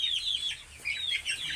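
A two-month-old chicken on a farm clucks close by in short, repeated high bursts separated by brief pauses, with no talking over it.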